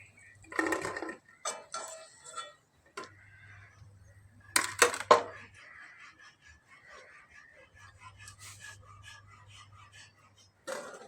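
Fried besan pakoras are lifted one by one from a hot pan, with sparse metallic clinks and scrapes of a utensil against the pan, separated by quiet pauses and a low background hum.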